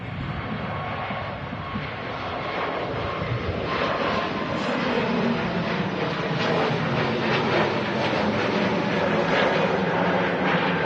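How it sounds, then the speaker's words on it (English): A Lufthansa Airbus A320neo takes off from Manchester Airport for Frankfurt, its engines a broad, steady roar that builds and holds loud at a distance. "Lufthansa A320 Neo rotating for Frankfurt"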